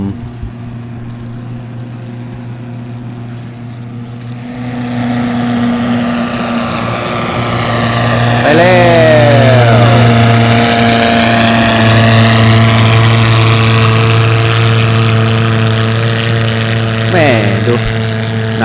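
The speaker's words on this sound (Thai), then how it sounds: "มาแล้วเรือหนึ่งลำ" A motorboat engine rumbles steadily and grows louder as a boat arrives at a beach in Chiang Rai in the evening, a continuous drone close by and alone.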